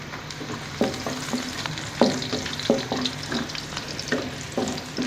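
Whole dried chillies and onions frying in hot oil for shahi daal mash, a constant low sizzle punctuated by repeated rhythmic spoon scrapes and taps against the pan.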